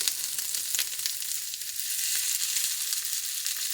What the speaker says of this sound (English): You hear that sizzle? That is what you want from a beautiful breakfast skillet.